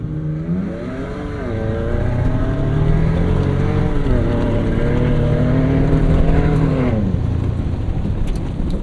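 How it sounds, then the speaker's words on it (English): Ford Ranger Raptor and Toyota Tacoma TRD Pro drag racing at a drag strip; engines climb in pitch through several gear changes, loud and sustained, then cut off near the end with no talk. "we're going to do a drag race against the Ranger Raptor and the Tacoma TRD Pro."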